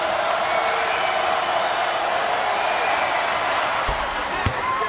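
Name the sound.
basketball arena crowd rising and cheering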